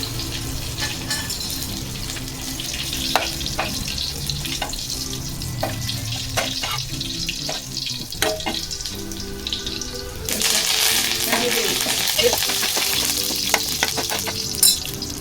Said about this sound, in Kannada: ಈಗ ಸೌಂಡ್ ಬರ್ತಾ ಉಂಟು. ಸಾಸಿವೆ ಪಟ ಆಯಿತು.